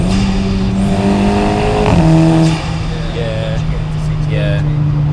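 Car engine revving near just under 6,500 rpm, a loud droning tone that climbs then drops sharply as the throttle is flicked, followed by a steady idle-like hum, with a sharp higher whine and faint talk in the background.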